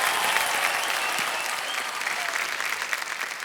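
Steady, loud studio audience applause on the TV quiz show KBC Season 14, a dense wash of clapping hands that holds evenly throughout with no talking.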